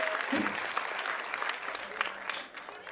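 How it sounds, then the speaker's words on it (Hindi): An indoor audience at a children's health event applauds Manish Paul as he is welcomed, with steady, dense clapping that fades toward the end; a voice speaks briefly at the start. "जरा जोरदार तालियां हो जाएं।"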